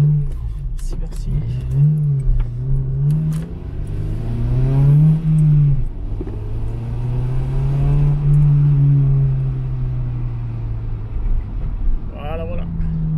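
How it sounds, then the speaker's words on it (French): A car pulls away gently from Up Garage in Osaka at night, its engine droning low and steady close by with a couple of mild rises in pitch, while someone talks over it. "On va faire une petite accélération. Petite légère."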